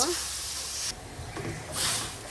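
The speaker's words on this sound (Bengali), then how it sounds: "শুটকিগুলো ভাজা হয়ে গেছে আমি পানি দিয়ে দিব" Water poured into a hot wok of fried dried boal fish gives a sharp burst of hissing steam, then a short lull and a second hiss, close and loud, with a voice faintly in the background.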